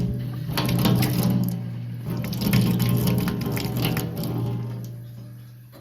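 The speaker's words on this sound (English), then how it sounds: "Okay, so presumably that's just a lot of air bubbles." Air bubbles gurgle and rattle through water pipes of a heating and cooling system in an old château, a continuous close crackling and bubbling over a steady low hum that fades toward the end.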